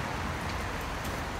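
Steady rain falls outside an abandoned church with a large clock tower in Leigh, a close, even hiss of drops filling the whole moment with no voices.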